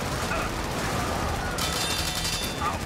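Shotgun fire in the video game Helldivers, a continuous burst of loud gunfire with a crashing texture across the whole stretch, mixed with in-game noise and some faint voices.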